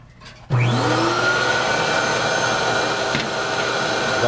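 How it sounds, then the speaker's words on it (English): A vacuum cleaner switches on and rises to a loud, steady whine while cleaning toner out of the waste side of an HP Q2612A 12A laser toner cartridge, running continuously close by. "I'm going to take a vacuum."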